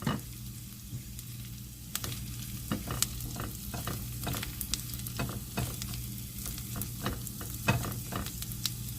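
Asparagus, zucchini and garlic sizzling in a frying pan, a quiet steady fry broken by frequent sharp clicks and scrapes of stirring throughout.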